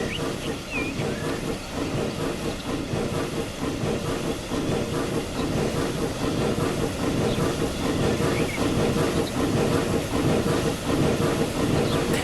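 A steam train in the Transport Fever 2 video game chugs along with a constant hiss of steam and rhythmic clattering wheels, steady and fairly loud throughout.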